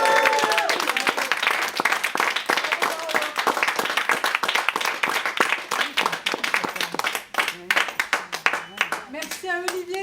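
Sustained audience applause at a French theatre show, dense clapping from a large crowd filling the room, loud and continuous before thinning into scattered claps with a few voices near the end.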